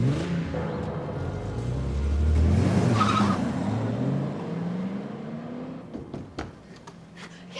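A family car speeds off with a kidnapper at the wheel, its engine swelling close up as tires skid and squeal, then fading away into a few faint knocks.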